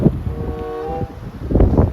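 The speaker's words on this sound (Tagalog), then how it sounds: "sa lakas pa ng hangin ngayon" Strong gusty wind at snowy Smoky Lake, Alberta, buffets the microphone in rumbling bursts, easing briefly in the middle before surging again.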